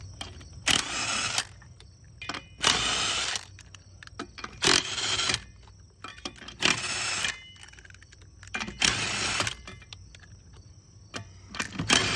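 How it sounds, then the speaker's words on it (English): Impact driver removing lug nuts from the rear tandem wheel of an RV, in about five loud, broadband bursts of hammering rattle, each roughly half a second to a second long, separated by quieter gaps with outdoor background noise. "I use my impact driver to remove the lug nuts."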